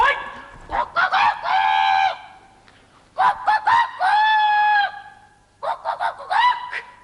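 A voice loudly imitates a rooster crowing on stage in a Marathi comedy play, three drawn-out calls separated by short pauses, close and clear.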